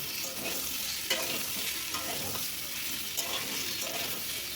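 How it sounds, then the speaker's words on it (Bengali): Papaya and potato pieces fry in a covered pan, a soft, continuous sizzle with occasional stirring scrapes, close and fairly quiet. "পেঁপে আলু ভাজার সময় আমি একটু ঢাকা দিয়ে ভাজবো"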